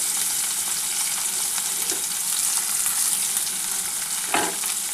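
Onion and garlic sizzle steadily in hot oil in a pan, with a continuous bright crackle and a couple of soft knocks from stirring. Nobody speaks.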